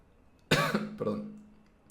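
A single burst of coughing at close range, starting sharply and trailing off over about a second, with a quiet room before it.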